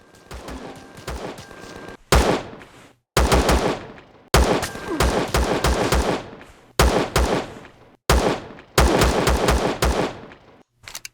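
Loud bursts of automatic weapon fire in the game Empyrion, delivered in about six separate volleys of rapid shots, each cut off abruptly with short gaps between them.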